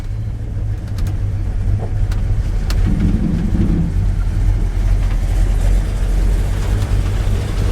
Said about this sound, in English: Mrs. Heavy, Chevy, and I are out today, just crossing creeks, ambling around